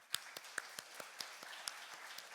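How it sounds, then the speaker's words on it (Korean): A church congregation claps in encouragement for a mission team, with sparse, faint, separate hand claps at an irregular pace in a quiet room. "한번 격려의 박수 해줬으면 좋겠어요."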